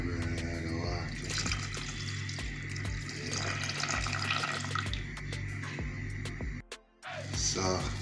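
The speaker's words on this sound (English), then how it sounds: "So after I fully burn, I add the water." Water runs from a tap into a pot of curry chicken back, a steady close splashing stream that cuts out briefly near the end and then resumes, with a voice talking over it.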